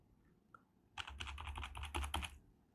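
Rapid, close clicking of a computer mouse while erasing in Photoshop, a quick burst of light taps lasting under two seconds after a near-silent start.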